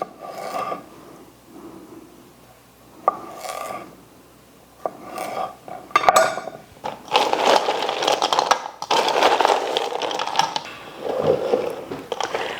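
A knife chops through cucumbers on a board in a string of quick cuts, with scraping and rasping between them.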